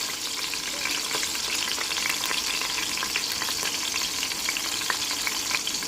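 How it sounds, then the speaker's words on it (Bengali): A large silver carp head fries in hot oil, a dense, continuous close crackle and sizzle with scattered pops throughout, no talking. "তো আমি প্রথমে মাথাটা ভেজে নেব"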